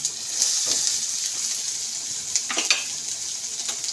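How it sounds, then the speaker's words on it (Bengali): Vegetables drop into hot oil with popping mustard seeds and set off a loud, close, hissing sizzle with scattered crackles and a few stirring clatters. No one speaks. "তো সর্ষেটা গরম হয়ে গেছে, এবার আমি সবজিগুলো সব দিয়ে দেবো।"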